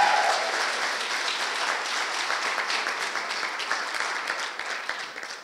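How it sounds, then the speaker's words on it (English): An audience at a college raft debate breaks into a round of applause, dense and even clapping that holds steady and tapers slightly at the end. "could I have a round of applause?"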